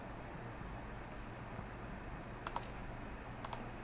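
Two short, sharp mouse clicks, close and distinct, separated by about a second against a quiet background hiss.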